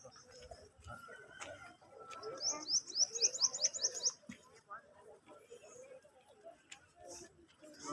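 Small birds chirp in a quick, close burst of high tweets as they are released outdoors, with rustling and people talking around them.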